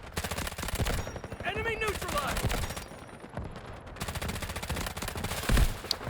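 A K416 rifle in the shooter game Delta Force fires long, rapid automatic bursts that are loud and close, broken by brief pauses, with other game sound effects mixed in.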